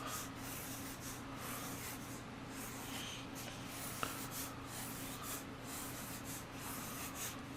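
Pencil drawn across paper in repeated soft scratchy strokes, faint and close, in a steady rhythm with one small tap midway and no talking.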